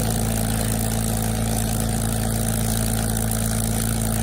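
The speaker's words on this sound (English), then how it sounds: "It's a beautiful engine noise, isn't it?" A Rolls-Royce Merlin piston aircraft engine runs steadily nearby, a loud, continuous low rumble and drone that holds without a break.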